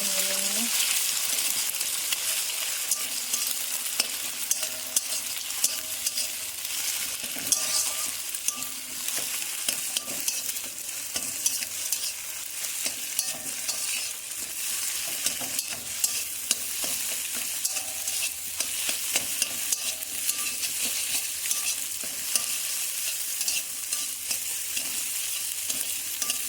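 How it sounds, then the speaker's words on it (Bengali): Two eggs fry in a pan with a steady, close sizzle for the whole stretch while a utensil stirs and scrapes through them, with no talk over it. "একসঙ্গে দুটো ডিম ভেজে নেব"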